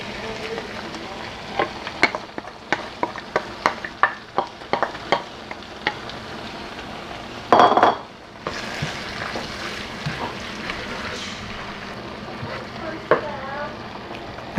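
Bell peppers and onions frying in a pot for egusi soup, a soft steady sizzle with scattered stirring clinks and scrapes and one brief louder rattle partway through.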